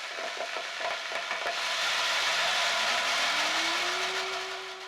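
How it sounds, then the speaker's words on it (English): A Vitamix blender runs at its highest speed grinding about a cup of popcorn kernels into cornmeal, giving a loud, steady roaring whir with gritty rattling at first that smooths out as the motor pitch climbs and holds. "I'm blending at the highest speed for 1 minute"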